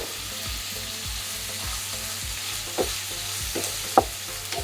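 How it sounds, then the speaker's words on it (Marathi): Finely chopped onion fries in hot oil with cumin seeds for palak paneer, a soft steady sizzle under regular rhythmic stirring taps and scrapes of a spoon in the pan, close and fairly quiet. "जिरे तडतरल्यानंतर 1 वाटी बारीक चिरलेला कांदा टाकून घेऊ।"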